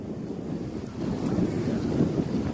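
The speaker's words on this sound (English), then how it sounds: "I love the sound of rushing water in the morning." Steady broadband rush of water outdoors in the morning along the Appalachian Trail, a continuous close wash that swells slightly toward the end, with no talking.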